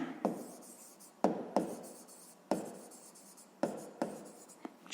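A pen writing numbers on paper, with close scratchy strokes that come in several separate bursts, each starting sharply and fading, with quiet gaps between them.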